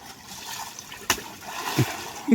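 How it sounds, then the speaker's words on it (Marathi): Water is splashed while Khillar bullocks are washed; a few quick, soft splashes and trickles sound close by, faint and brief against a quiet background. "पाणी उडव ना अगोदर"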